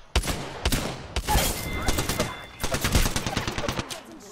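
Rapid bursts of energy gun fire in a shooter video game, loud and close, with several separate volleys and a dense stretch of continuous shots.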